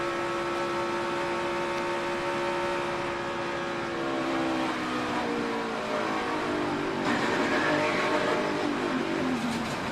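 Onboard a NASCAR Chevrolet race car at Daytona, the engine screams at high revs, then the pitch sweeps down through several steps as the driver downshifts during a crash, loud and continuous.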